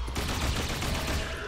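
Dense, continuous rapid gunfire rattles through a frantic demonic shooter game, loud and unbroken with no speech over it.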